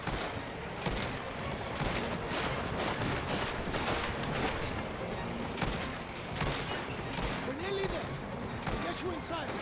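Steady streams of rapid-fire shots rattle on without pause in the video game Mafia: The Old Country, harsh and loud over a rumbling bed of noise, with faint voices occasionally underneath.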